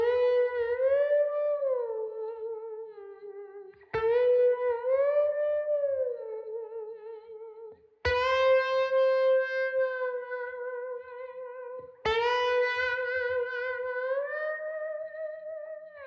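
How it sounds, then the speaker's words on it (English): Electric guitar plays a slow blues-rock riff in four sustained phrases with bends and vibrato, each phrase starting with a sharp attack and ringing with echo, loud and close with no voices. "So the whole riff together slow sounds like this."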